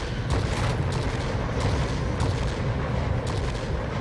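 Bombs from a Me P.1099 B-2 ground attacker in World of Warplanes explode in a continuous heavy rumble of deep booms, loud and dense for a few seconds with no clear gaps.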